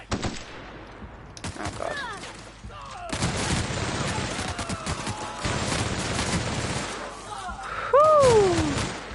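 Enemies open fire in The Outer Worlds video game, with repeated crackling volleys of gunshots across the whole stretch, and a person exclaims briefly over the shooting.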